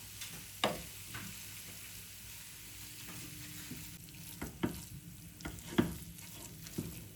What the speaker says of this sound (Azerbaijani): Və biraz bişən soğana əti əlavə edirəm.